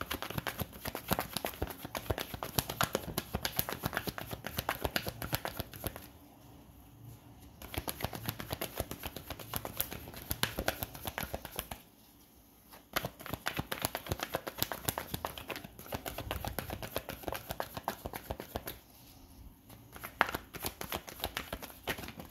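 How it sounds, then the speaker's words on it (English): Tarot cards are shuffled up close in a quiet room, a continuous dense riffling patter that stops briefly three times before resuming. "Let's get one shuffle."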